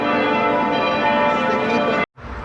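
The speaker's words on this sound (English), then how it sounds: "It's the noon bells of the church." Church bells toll the noon hour in Düsseldorf, a dense, sustained metallic ringing that fills the air steadily before cutting off abruptly near the end.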